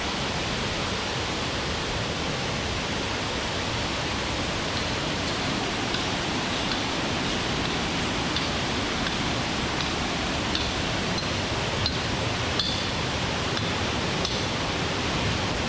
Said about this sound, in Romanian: Se desface aici mai jos pe niște stânci în forma acestei cascade.